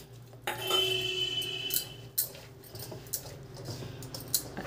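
Vegetables tossed with ginger garlic paste in a large vessel for veg momo filling, giving scattered soft clinks and scrapes of utensils against the pot, close and moderately loud, with no one talking.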